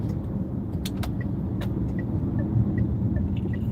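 A BAIC X55 SUV with a DCT gearbox accelerates hard on an open road, heard from inside the cabin as a steady low engine and road rumble with a few faint clicks over it.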